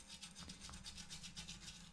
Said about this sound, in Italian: La possiamo pulire semplicemente con un vecchio spazzolino da denti